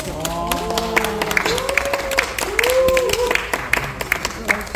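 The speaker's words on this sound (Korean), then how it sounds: "큰 박수 주십시오" A crowd claps at an outdoor barefoot-walking festival in Seoul Forest, a loud burst of many hands mixed with voices and cheers, sustained for several seconds.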